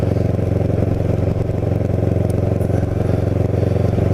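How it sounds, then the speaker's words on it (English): A Kawasaki Ninja 650R motorcycle rides along with a steady, loud, throbbing engine drone and wind rumble, continuous for the whole stretch and without any talk. "And of course I'm on a motorcycle"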